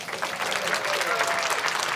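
Audience applause at a genealogy panel session, a full room clapping steadily for a couple of seconds at even loudness, with a faint voice underneath.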